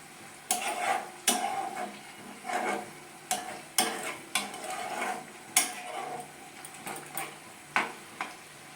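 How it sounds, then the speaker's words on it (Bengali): Paneer pieces simmer in a thick gravy in a pan, with repeated scraping stirs and soft sizzling bursts close by, about a dozen strokes in steady rhythm and no talking. "এবার পনিরগুলো একটু ফুটে যাক"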